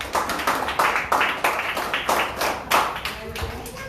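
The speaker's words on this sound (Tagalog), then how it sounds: "Parang mahina yung palakpak nyo." A church congregation at a New Year's Eve service claps in a steady, rhythmic beat of sharp, evenly spaced hand claps, loud and close, with faint voices mixed underneath.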